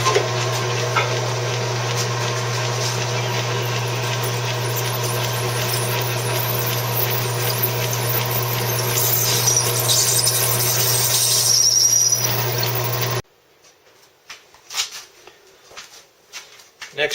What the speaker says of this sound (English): The first step is to drill the hole.